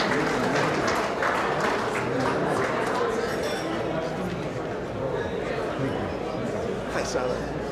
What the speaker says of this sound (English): A round of applause for Pan-Gregorian